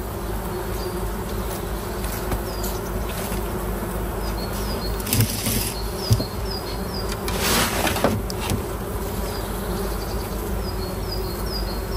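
Honeybees buzzing steadily around a hive, a dense hum of many insects with a few individuals passing closer and louder now and then.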